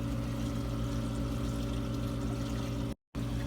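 Water from a 170-gallon aquarium drains steadily into a sewer drain with a constant rushing, gurgling flow, loud and continuous apart from a brief cut near the end.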